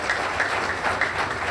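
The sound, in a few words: audience applauding at a congress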